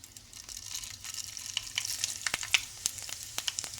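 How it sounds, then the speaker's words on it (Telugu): Dried red chillies and tempering seeds crackle in hot oil, a close, lively run of sharp pops and snaps over a soft sizzling hiss. "ఇది కొంచెం చిటపట అనేది అయిన తర్వాత మనము దీంట్లో ఆనియన్స్ వేసేసుకుందాం."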